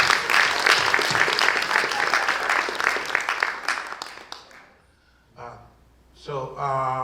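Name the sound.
comedy audience applauding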